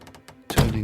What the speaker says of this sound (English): dragged the heavy wooden door